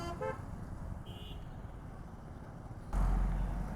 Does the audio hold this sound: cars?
yes